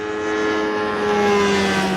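A light propeller aircraft flies over hot, dry, rocky, rugged terrain, its steady engine drone loud and continuous with a sustained tonal hum and no pauses.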